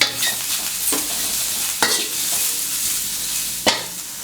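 Ginger stir-fries in hot oil for a tilapia dish with fermented soybean paste, giving a steady loud sizzle punctuated by three sharp spatula scrapes spaced a second or two apart.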